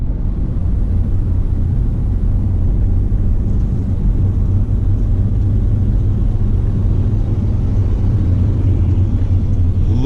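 Inside a car cruising between gas stations, a steady low engine and road rumble fills the cabin, constant and fairly loud, with no one speaking.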